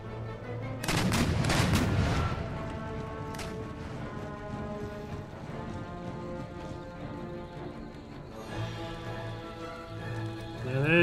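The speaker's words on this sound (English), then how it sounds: "Now there's the mortars." Mortar fire in the Empire Total War game comes as loud booming blasts early on, followed by a sustained battle din with faint distant shots and a swelling tail.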